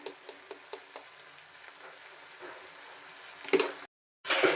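Chicken fries in a pan with pepper powder, coriander powder and garam masala, a soft steady sizzle broken by a few light clicks of stirring and a louder scrape near the end before a brief cutout.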